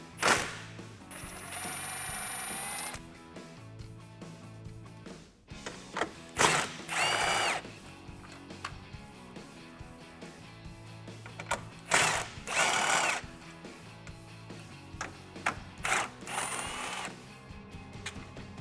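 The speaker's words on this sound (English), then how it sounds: "I'm using a 10 millimeter socket and an impact wrench." An impact wrench with a 10 mm socket rattles off grille bolts on a 2013-2018 RAM 1500, in several short loud bursts separated by quiet gaps and faint mechanical clinks.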